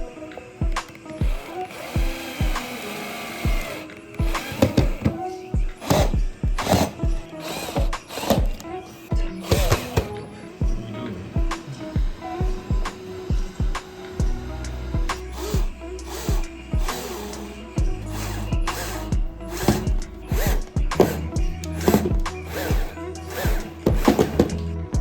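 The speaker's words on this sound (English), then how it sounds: "we're going to continue by drilling in the legs." Legs are drilled into a kitchen cabinet: a power drill whirs and ratchets in repeated short bursts, some long and some clipped, with brief pauses and tool handling between them.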